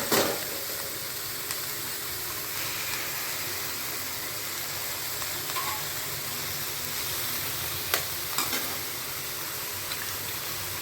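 Moringa flowers and two eggs stir-frying for a poriyal, giving a soft, continuous sizzle and hiss at moderate distance with a few faint scrapes of stirring.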